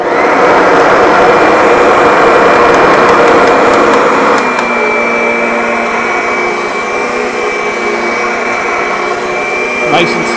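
Kirby Sentria II vacuum cleaner, fitted with a new bag assembly and fan assembly, running steadily with a loud, smooth motor whine and airflow roar throughout, shifting slightly in pitch midway.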